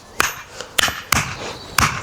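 A mallet drives a wooden stake into the ground at the back edge of a timber sleeper retaining wall: four sharp, close thumping strikes at an uneven pace, each fading quickly.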